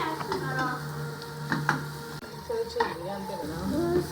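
Sliced onions and green chilies fry in about two tablespoons of oil, a steady close sizzle with occasional stirring scrapes and clinks of a utensil against the pan.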